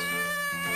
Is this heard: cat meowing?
yes